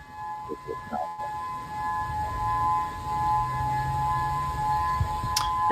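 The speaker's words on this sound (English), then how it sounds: "This is my first time hearing a tsunami siren." A civil defense tsunami warning siren in Maui, Hawaii wails as a steady, distant tone held across the whole stretch, faint under quiet outdoor ambience with a brief voice early on.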